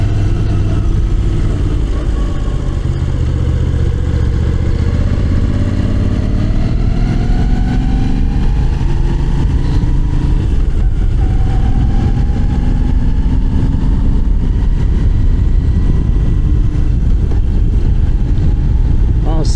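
A Moto Guzzi V9 Roamer motorcycle engine runs loud and continuous while riding, its pitch rising and falling through gear changes, with rushing wind noise throughout.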